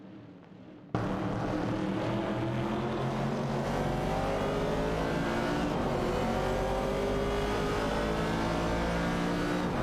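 Race car engines from a driving video game, including a 1970 Chevrolet Camaro and a 1970 AMC Javelin, roar in after a quiet opening second and hold a loud, steady drone with layered engine tones throughout.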